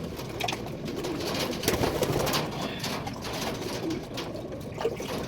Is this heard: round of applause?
no